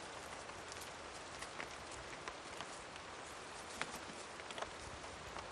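Rain falls in a wombat forest, an even hiss of drops pattering on leaves and ground, with a few slightly louder individual drips standing out.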